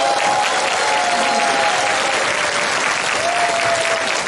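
Sustained, loud crowd applause from an audience honoring their elders at a political gathering in Jeonbuk, steady dense clapping throughout with no speech over it.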